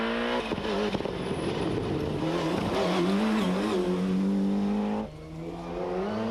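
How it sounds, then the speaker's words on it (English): A Group A Ford Escort Cosworth rally car passes close by on a tarmac stage of the 1995 Ulster Rally, its engine droning loud and steady with a rising pitch before fading briefly and picking up again. "here's David Greer's Group A Escort Cosworth"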